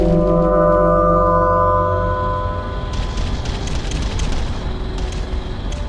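Artillery bombardment in the real-time strategy game Ground Control, with a loud, dense wash of explosions and rumbling booms that continues throughout, layered over sustained low tonal drones.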